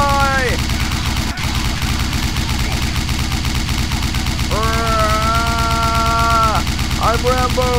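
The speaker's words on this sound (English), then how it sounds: "this is the Browning handheld M2" A Browning M2 handheld machine gun fires in long, loud, continuous bursts in the Garry's Mod video game, with a rapid, relentless rattle. Droning tonal sounds rise and fall over the gunfire.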